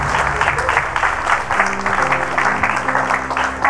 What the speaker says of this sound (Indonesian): Silakan tepuk tangan buat Dinar semua